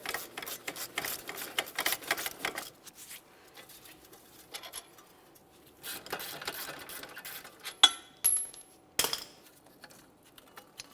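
Bolts come out of a 2014-2018 Mazda 3 front wheel bearing and hub assembly, with close, irregular metallic ratcheting and clinking in bursts, separated by quiet pauses and a few sharp clanks.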